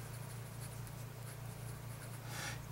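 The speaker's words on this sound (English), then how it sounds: "this nib writes so much better" A vintage Belmont fountain pen with a black chased hard rubber body scratches its nib across paper, giving a faint, steady scribbling sound alone over a low background hum.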